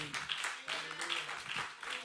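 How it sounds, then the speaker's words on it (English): Church congregation applauding the pastor at a Sunday service, a soft, steady wash of clapping at a distance, mixed with voices throughout. "Church, let's give him a hand of applause as he comes"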